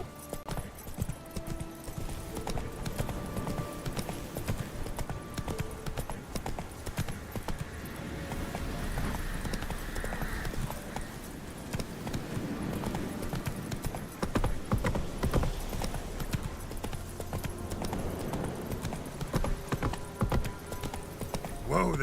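Roach, the horse in The Witcher 3: Wild Hunt, gallops with a busy, rhythmic clip-clop of hooves. The hoofbeats continue throughout at moderate loudness, mixed with other game sounds and occasional quieter voices.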